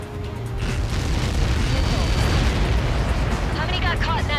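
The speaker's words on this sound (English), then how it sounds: "How many got caught in that explosion?" A massive in-game explosion as Helios projectiles strike in Ace Combat 7, a deep rumbling boom that swells and sustains loudly, with radio chatter and cockpit tones near the end.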